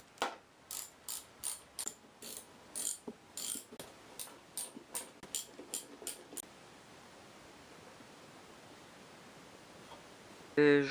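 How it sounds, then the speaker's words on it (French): A hand ratchet clicks in quick bursts while bolts are backed out on a Mopar 440 V8 engine, a dozen or so short, sharp rhythmic runs of clicking close by, then a quiet pause before a brief louder knock at the end. "Hop, on va dévisser de l'autre côté."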